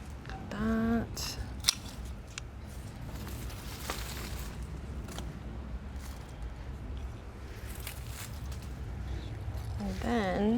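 Scissors snip overgrown garden plants in a series of quiet, sharp cuts spread over several seconds, with faint rustling of stems in a calm outdoor setting.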